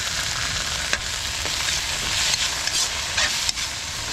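Pechay and pancit canton with soy sauce stir-frying in a pan, a steady close sizzle broken by a few sharp stirring scrapes and clinks, with no talking.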